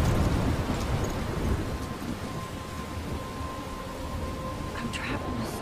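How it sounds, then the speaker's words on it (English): A stormy night with rain and thunder in the video game Life Is Strange: a dense hiss of rain and a low thunder rumble that fades after the first second or two, with a faint steady tone underneath and a voice speaking. "I'm trapped in a storm?"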